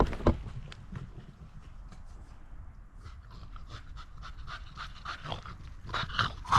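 A dog pants steadily and rhythmically close by in a backyard cooking setting, the quick breaths forming a continuous, fairly loud pattern with small paw and movement noises between them.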